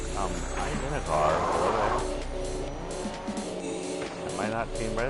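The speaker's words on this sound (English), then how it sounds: "I'm in a car." Car driving in the Fortnite video game, with tire squeal and skidding, engine hum and game sounds running steadily under continuous talk.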